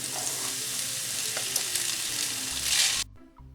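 Pasta dropped into a pan of hot olive oil infused with garlic, a loud bright sizzle with stirring scrapes that cuts off abruptly near the end.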